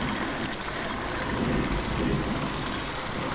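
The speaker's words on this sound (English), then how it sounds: "I don't think I can cause the storm to pick up even more than it already is at this point." Dense, steady storm rain in the video game Ghost Master, a constant loud hiss of downpour filling the scene with no talking.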